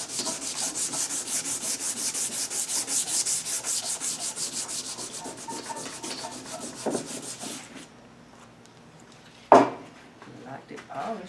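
Hand-sanding a plexiglass windshield from a 1985 Pro-Line center console boat gives close, rhythmic scratchy rubbing strokes that stop for a moment, followed by a sharp knock and softer scraping.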